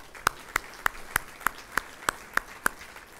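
At a school district State of the Schools event, an audience claps in a measured, regular rhythm, roughly ten crisp separate claps with little noise between them.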